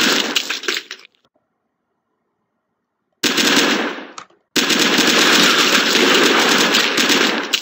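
Dense machine-gun fire from the video game Drakojan Skies comes in loud sustained bursts, cutting out abruptly into silence between volleys before resuming as a continuous rattling stream.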